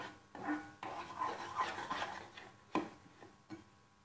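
Rice flour dough for modak is stirred in a pot over medium heat, giving quiet scraping and rubbing strokes with a few sharper knocks of the utensil against the pot, close by and without voices.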